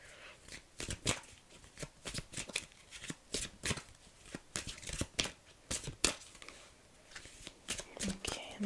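Tarot cards shuffled by hand in a series of quick, crisp riffling bursts at an irregular pace, close and fairly quiet, with no talking over them.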